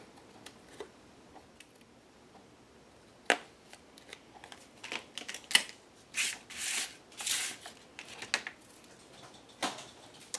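Scissors cutting out a dried paper heart from an altered book project, heard as faint, irregular snips and crisp paper rustles up close, growing busier midway with a few louder crinkling bursts.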